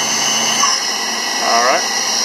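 A Haas VF3 CNC mill spindle running at 9,000 RPM, a loud, steady high-pitched whine with a constant tone and a slight swell in pitch partway through, with speech heard alongside.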